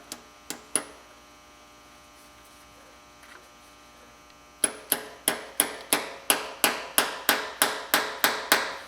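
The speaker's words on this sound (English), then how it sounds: "going to pound that in there." Hammer blows driving a screw extractor into a broken exhaust manifold bolt on a Silverado 2500HD, three sharp metallic strikes, a pause over mains hum, then a steady run of about a dozen evenly spaced hits.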